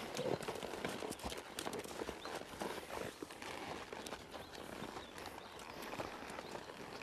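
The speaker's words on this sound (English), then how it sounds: "Bring this horse back and give Nick some room." Horse hooves walking on ground during a horsemanship session, a steady run of soft irregular footfalls near the microphone, continuing throughout with no talking.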